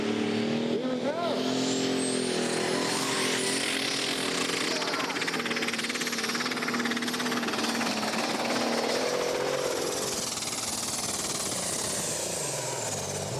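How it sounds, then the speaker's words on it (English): A limited superstock pulling tractor roars at full throttle through a test pull at the Great Eccleston tractor pulling finals, a loud continuous engine howl with rising pitch, a crowd and announcer faintly under it. "So here comes our test puller. So let's see what young Luke can do. Can he get a full pull?"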